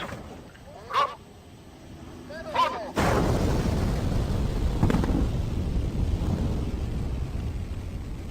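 After two short honks, a single deep construction blast at a bridge building site erupts and rolls on as a long, loud rumble that slowly fades.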